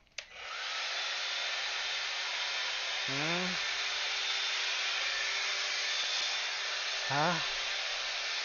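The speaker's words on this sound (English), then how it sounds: "What do you think is going to happen when I turn this leaf blower on?" A leaf blower runs with a loud, steady broadband roar from start to finish, with a brief spoken interjection near the beginning and two short squeaky rising tones partway through.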